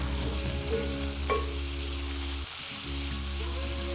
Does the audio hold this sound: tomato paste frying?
yes